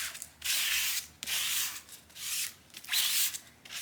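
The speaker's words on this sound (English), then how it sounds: "And then I'm gonna take the squeegee, I think that's what it's called, and I'm just gonna go through it." A squeegee drags ink across a large screen printing screen in four smooth, rasping swipes, each about half a second long with brief pauses between, close and fairly loud.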